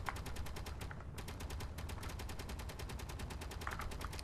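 Turret gunfire in the video game Space Engineers, a rapid, even stream of automatic shots firing continuously with only one brief pause, fairly quiet in the mix.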